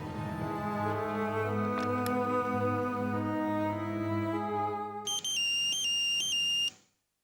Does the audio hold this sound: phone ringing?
yes